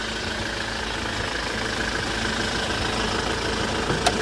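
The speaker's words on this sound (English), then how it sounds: "and engine sound is good." A 2008 Grand Starex 12-seat van engine idles steadily with a constant low rumble and broadband hum, no speech, with a faint click near the end.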